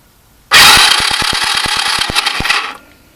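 A 110cc Roketa off-road go-kart engine cranks hard on a cold start, giving a loud burst of rasping noise with quick repeated pulses for about two seconds before it cuts out, no voices.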